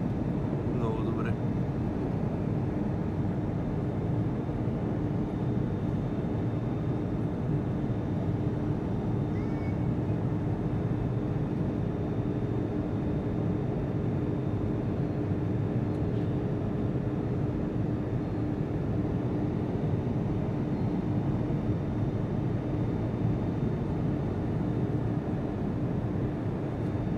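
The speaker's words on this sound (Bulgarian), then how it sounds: "Самолета в момента буквално е с носа надолу." Steady, loud low roar fills an airliner cabin as the plane descends nose-down on its approach, with a constant engine drone and a few soft voices talking quietly beneath it.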